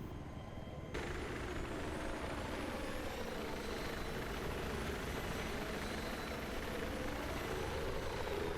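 A helicopter flying in the video game Battlefield 3, a loud steady rotor and turbine roar that kicks in after a second and holds constant to the end.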